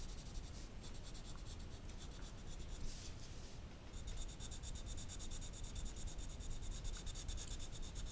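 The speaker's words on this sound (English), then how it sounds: "Taking these pencils and filling my shadows." Colored pencils rub over Spectrum Noir marker coloring of a Tinker Bell illustration, filling in shadow areas with a continuous close, dry scratchy shading sound in quick back-and-forth strokes.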